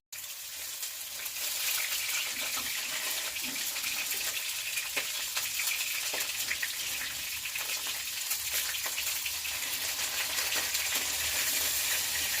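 Tuna pieces frying in hot oil in a pan for a Bengali curry, a steady bright sizzle and crackle throughout, close and continuous with no talk over it.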